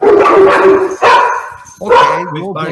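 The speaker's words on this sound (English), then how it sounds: "My dog's going off now too because he heard that dog." Dogs bark and yip in short bursts close by, overlapping with a person talking over the noise.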